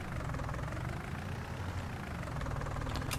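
Tractor engine idling in the farming game Landwirtschafts-Simulator 19, a steady low rumbling drone that holds at a constant level throughout, with no talk over it.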